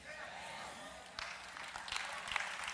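Faint audience clapping at a motivational talk on personal success. It is scattered at first, then swells into fuller applause about halfway through, with voices underneath.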